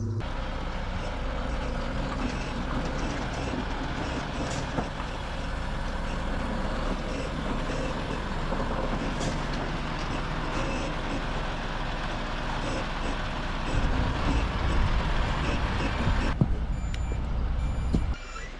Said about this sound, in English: they're going to start reversing it down the drive in a moment